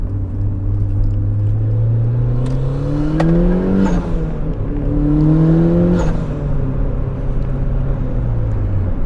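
A 300 whp turbocharged Mazda Miata drives hard along a twisty road, its engine note droning and rising and falling in pitch through the turns, loud and close, steady throughout with no talk.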